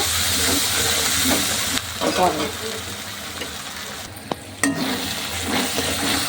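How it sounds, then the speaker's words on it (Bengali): Spice paste with turmeric and a splash of water sautéing in a pan for quail curry, a steady frying hiss with intermittent stirring scrapes and a sharp clink, fairly close and loud. "মশলাটা কষিয়ে নেব"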